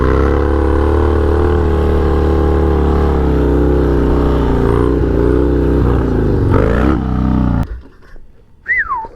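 A Harley-Davidson motorcycle engine with a sticky throttle holds a loud, steady high rev close by, droning for several seconds before dropping off abruptly, then briefly surging again near the end.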